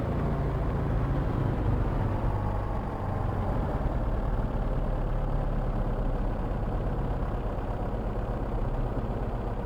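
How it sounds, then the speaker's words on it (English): Twin piston engines of a P-38 Lightning idling in Microsoft Flight Simulator, a steady low drone near 800 RPM that stays even and moderately quiet throughout, with no talk. "Idling around 800 RPM by the looks of it."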